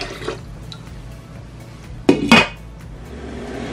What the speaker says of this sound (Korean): 물까지 넣고 센 불에서 뚜껑 닫아서 한번 끓여 주세요.